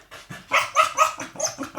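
A dog named Kesha gives a rapid run of short, close barks and whiny yips, several in quick succession at moderate loudness with no talk over them.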